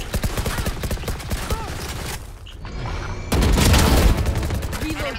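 Rapid bursts of gunfire in the shooter game Valorant crack close and loud, with a short quieter gap before another dense volley, game voices heard beneath.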